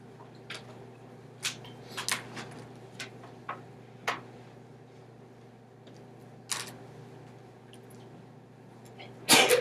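In a math classroom, a single sharp sneeze bursts out near the end, following a quiet stretch dotted with faint taps and clicks from the room.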